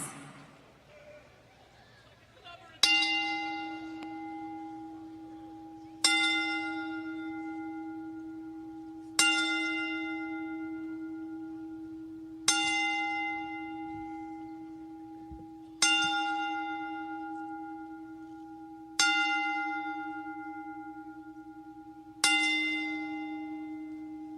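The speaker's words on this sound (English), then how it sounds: "please rise as we toll the bell 10 times" A single bell tolled as a tribute, struck eight times in this stretch at slow, even intervals of about three seconds, each stroke ringing out clearly and decaying slowly before the next, near and resonant with a quiet room behind.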